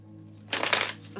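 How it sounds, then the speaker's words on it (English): Playing cards riffle-shuffled by hand, a short loud burst of flapping card noise over a steady low hum, close by and alone. "I need to shuffle it like this though."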